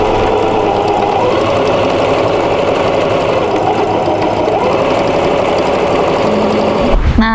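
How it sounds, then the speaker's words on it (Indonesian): A sewing machine runs steadily, stitching around the bottom of an ecoprint tote bag, its continuous loud mechanical whirr and rapid needle knocking going on without a break and stopping abruptly at the end. "Selanjutnya, kita akan menjahit sekeliling bagian bawah ini ya teman-teman."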